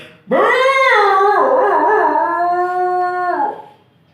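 A mimicry artist voices one long, loud dog howl, up close, that swells, wavers and trails off, as if a second dog joins in crying at night, heard alone without speech.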